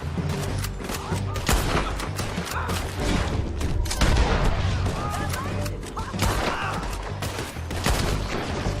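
Dense rifle gunfire rings out in a Red Dead Redemption 2 shootout, repeated sharp cracks and booming reports in rapid succession, loud and close, layered over a continuous din of game effects.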